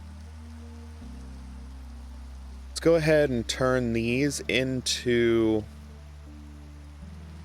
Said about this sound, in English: we can get rained on, apparently.